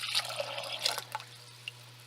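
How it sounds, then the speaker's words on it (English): Clean water poured into a crockpot of rinsed, drained pinto beans, heard as soft, faint splashes and scattered drips over a quiet background. "I'm going to add 1 quart of clean water"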